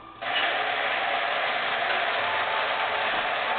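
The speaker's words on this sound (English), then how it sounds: "We can grind away. While that's grinding, we'll put the rest of this away." An electric spice grinder runs continuously on a very fine setting, grinding a pork butt rub spice blend, a steady loud whirring buzz that starts abruptly and holds unbroken to the end.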